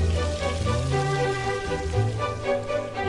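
Mini sweet pumpkin tempura coated in frying batter sizzles in hot oil, a steady close crackling hiss that continues throughout without talk.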